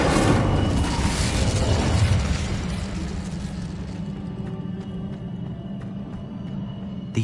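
A fire spell cast in a Harry Potter video game: a loud roaring burst of flame that dies down to a crackling, steady rumble over several seconds, with no talk.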